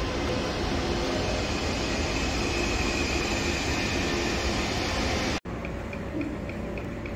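Steady, loud rumble fills the cabin of an ICE high-speed train travelling from Germany to France, a continuous broadband roar with faint rhythmic ticking and one brief dropout near the end.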